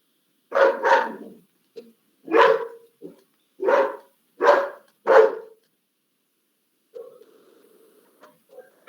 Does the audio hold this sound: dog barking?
yes